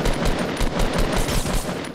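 Rapid automatic gunfire in a Fortnite Battle Royale match, loud close bursts of repeated shots firing in quick succession.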